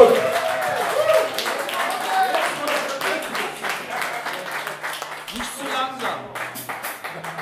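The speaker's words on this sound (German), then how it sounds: "Also einen kleinen Applaus für den Florian hier." Audience clapping at a GrevenBLUES blues concert in Grevenbroich for a young keyboard player on stage, a steady patter of applause from a modest crowd running under someone speaking into a microphone.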